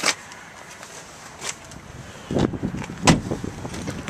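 A car door swings shut with a solid, muffled thud close by, followed by a second dull knock amid quiet cabin sounds.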